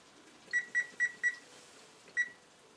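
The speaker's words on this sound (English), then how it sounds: "set the timer" A kitchen timer being set beeps four quick bright tones in a row, then one more after a pause, faint in a quiet kitchen.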